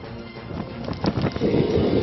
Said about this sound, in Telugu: మొత్తం కూడా సముద్ర తీర ప్రాంతం అంతా కూడా ఆ భారీ ఈదురు గాలులు వీస్తున్న పరిస్థితిని మనం గమనించుకోవచ్చు